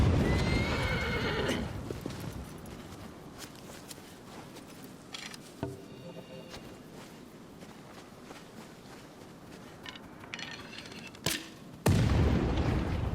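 Agro, a horse in Shadow of the Colossus, whinnies loudly in a couple of bursts among clip-clopping hooves and scattered thuds and booms, with a final loud impact near the end.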